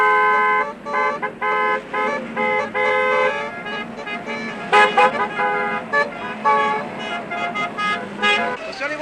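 Cars arriving at a wedding celebration with horns honking repeatedly in bursts of varied pitch, several overlapping and close, loud against a steady motor and street background, with voices faintly mixed in.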